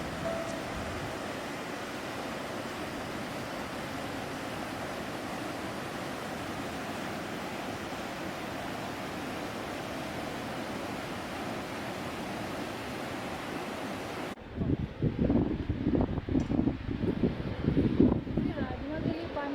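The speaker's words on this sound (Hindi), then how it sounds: "नदी के बहाव का शोर इतना अधिक है कि लगता ही नहीं कि हम अकेले चल रहे हैं।" The Thamsa river rushes in a loud, steady roar beside the Har Ki Dun valley trail, a continuous wall of water noise that cuts off abruptly near the end, giving way to closer, uneven knocks and rustles.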